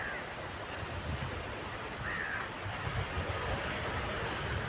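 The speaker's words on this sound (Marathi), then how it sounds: "आत्ता भरती सुरू होऊन एक तास झालेला आहे" Calm sea waves an hour into the rising tide, heard as a steady, even wash of surf with some wind noise and no clear breaks, holding at a constant level throughout.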